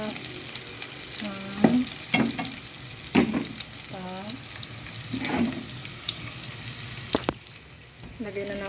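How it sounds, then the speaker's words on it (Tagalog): Garlic and onion sizzle steadily in a pan while cooking squid adobo in coconut milk, with repeated scraping and clanking of a utensil stirring against the pan. "Ayan, lagyan na natin ng bawang sibuyas."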